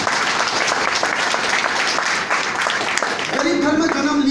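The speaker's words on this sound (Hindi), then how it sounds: "एक बार जोरदार ताली चाहूँगा" Loud, dense audience applause at a meeting, many hands clapping steadily for several seconds, with a voice beginning to speak over the tail end.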